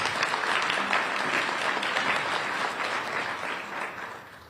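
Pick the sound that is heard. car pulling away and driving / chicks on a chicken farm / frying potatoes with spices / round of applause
round of applause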